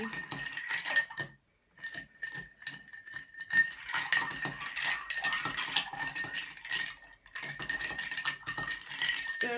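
Ice clinks and rattles steadily against a mixing glass as a classic martini is stirred, a continuous close tinkling with a brief pause early on.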